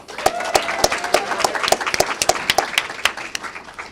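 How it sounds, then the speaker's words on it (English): A room of listeners at a university final presentation applauds, fairly loud and dense, with a few crisp individual claps ringing out above the steady clatter from start to finish. "Please give Adam a round of applause"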